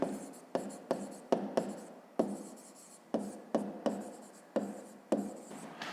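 A pen scratches across paper during a fifth-grade maths exercise, about a dozen short, sharp strokes in an uneven rhythm, close and quiet, with no talk over it.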